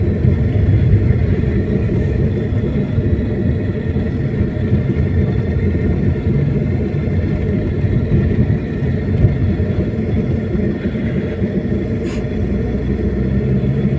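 Steady, close car rumble fills the whole stretch as a vehicle drives along a rough, poor road, a continuous low drone with faint knocks and no voices.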